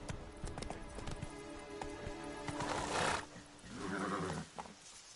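Roach, the horse from the Witcher 3 video game, neighs loudly over steady galloping hoofbeats, with a second whinny near the end of the short burst of running.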